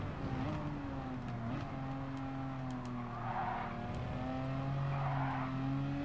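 A race car in Gran Turismo 7 holds a steady engine drone that rises and falls as the throttle is worked, with tire scrub and sliding noise swelling in places during a European Clubman Cup 500 race.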